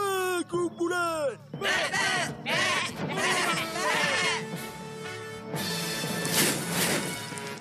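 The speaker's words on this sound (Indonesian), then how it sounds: "Kambing semua, bagi kepada 2 kumpulan." A herd of goats bleats, with overlapping wavering cries from several animals, some loud and close, in a dense chorus that runs the whole time.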